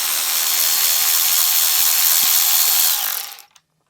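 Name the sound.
power tool loosening bolts on window motor assembly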